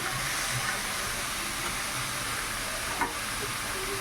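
Taro stems frying in a pan with ginger-cumin paste, giving off a dense, steady sizzle that stays loud and constant throughout, with a faint stir or clink near the end and no voices.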